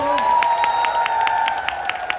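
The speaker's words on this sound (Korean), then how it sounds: "네, 더 뜨거운 박수 주세요." Steady clapping from a group fills a birthday party for a company head, with bright sustained cheering or whistling tones riding over it throughout.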